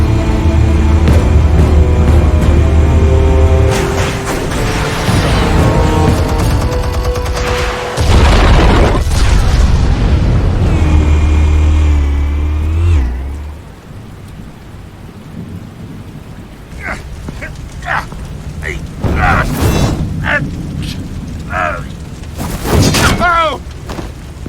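Heavy detonations of armed explosives in Batman: The Telltale Series, loud rumbling booms with a long roar in the first half, then sharper scattered blasts and crackles at lower level.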